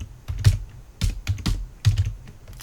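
Keystrokes on a computer keyboard entering an IP address during Raspberry Pi setup, with clusters of close, crisp clicks arriving in short uneven bursts and brief pauses between them.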